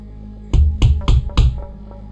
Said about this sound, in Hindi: थोड़ी देर बाद ग्रेगर के पिता ने दरवाजे पर दस्तक दी।